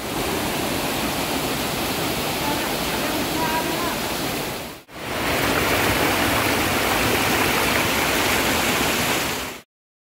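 Sindurkhol waterfall in forest near Gariyaband, Chhattisgarh roars as a loud, continuous broadband rush of falling water, close and unbroken apart from a brief cut midway, with no talk heard.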